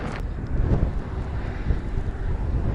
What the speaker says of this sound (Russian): когда вот так вот ветер на меня дует, вот так вот.